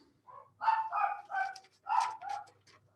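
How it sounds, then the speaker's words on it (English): Dogs barking in short bursts from somewhere nearby in the house, several sharp yaps in quick succession with no talking over them. "there go my dogs."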